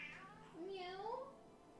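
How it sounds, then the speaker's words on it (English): A pet cat meows indoors, a single drawn-out, rising-and-falling cry that is soft and close, in an otherwise quiet room. "And she's just constantly meowing."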